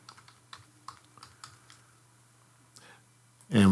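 Short bursts of typing on a computer keyboard, a scatter of soft clicks spaced unevenly over a low hum, ending abruptly in a sudden loud noise.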